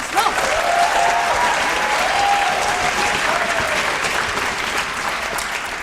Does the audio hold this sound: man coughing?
no